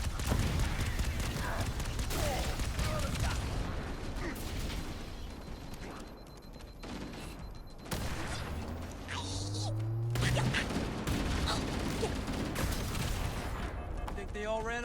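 Gunfire crackles during a Halo Campaign Evolved battle, with rapid bursts of shots and mechanical clatter early on, then sporadic blasts. Voices are heard through the fighting.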